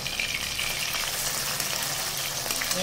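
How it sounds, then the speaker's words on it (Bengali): Pabda fish, already browned on one side, frying in mustard oil after being turned over; a continuous close sizzle with fine crackling and light spattering, steady throughout. "এক পিঠ ভাজা হয়ে গেছে, আমি আরেক পিঠ উল্টে দিলাম।"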